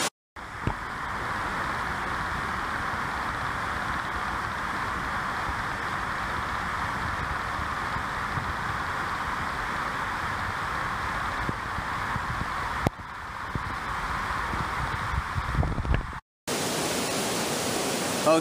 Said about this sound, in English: I have to shout at the camera because the waterfall is so loud